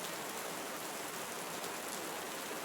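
Steady rain falls through a Costa Rican forest, a dense, even hiss of drops on leaves that holds at one level with no breaks and no voices.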